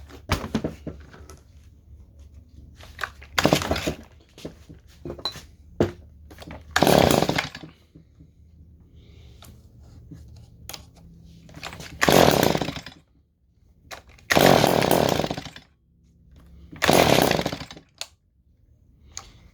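A Stihl hedge trimmer engine running badly, revving in loud, uneven bursts that surge and cut out between quieter idling gaps, close by and with no speech.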